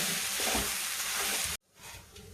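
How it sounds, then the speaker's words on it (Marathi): Mashed potato is stirred into frying spice masala for kat vada, a loud sizzle with scraping stirs that cuts off abruptly, then quieter sizzling resumes. "आपण त्यात आता हे कुस्करून घेतलेलं बटाट टाकू. बटाटा छान असं भाजीत आपण मिक्स करून घेऊ."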